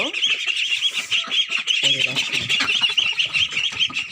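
Ducklings squawk and peep in a dense, continuous chorus close by while being fed kalakuch leaves, grass and banana leaves, with a brief lower honking burst midway.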